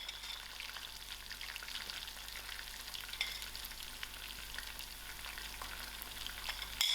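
Masala spices fry in hot oil with curry leaves, giving a steady, dense sizzle and crackle close to the pan that continues throughout with no talking.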